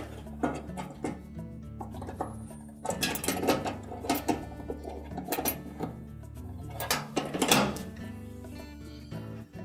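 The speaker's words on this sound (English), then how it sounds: "And tighten the bolt with your ratchet." A ratchet tightens a bolt on the idler bracket of a Whirlpool dryer, giving bursts of rapid mechanical clicking in two main runs over a steady low hum.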